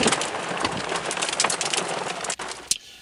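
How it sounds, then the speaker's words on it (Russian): Heavy rain pours steadily on a surface, a dense hiss with scattered louder drops, ending in a sharp crack and sudden quieting. "Гроза, град, дождь, ливень и все прочее."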